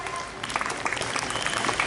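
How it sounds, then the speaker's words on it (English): Applause from a quiz club audience, a short burst of many hands clapping at steady loudness for about two seconds, with no talk over it. "Let's give him a huge round of applause."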